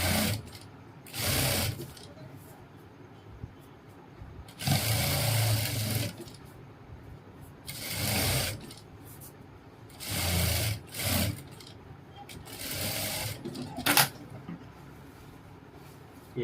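A sewing machine stitches a seam on a pair of ladies' pants or palazzo trousers. It runs in several separate bursts with short pauses between them, fairly close and unaccompanied by talk.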